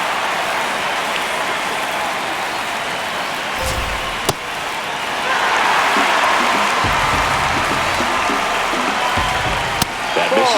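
A stadium crowd in MLB The Show 26 during a tight ninth inning of Yankees vs Athletics roars and murmurs as a broad, steady wash of noise that swells partway through, with a couple of sharp knocks cutting through.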